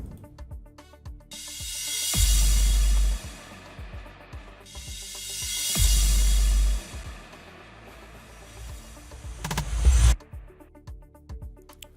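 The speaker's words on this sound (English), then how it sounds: "Next up we have this impact sound and then a sub bass drop" A hard impact hit followed by a deep sub bass drop in an Afrobeats instrumental, heard twice in succession over a sparse looping beat, loud and booming in the low end, then the groove continues alone with a final hit near the end.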